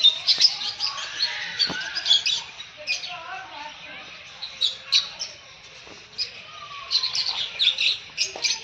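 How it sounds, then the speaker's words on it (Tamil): Parrots and peach-faced lovebirds in a park aviary give rapid, high chirps and squawks in repeated bursts, fairly close and lively throughout with short pauses between calls. "இது வந்து பேரட்ஸ்."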